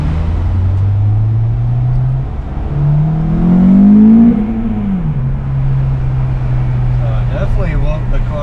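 An Acura TSX engine with a custom-made intake idles loudly, then revs up and back down in a single rising and falling sweep before settling back to a steady idle, heard up close.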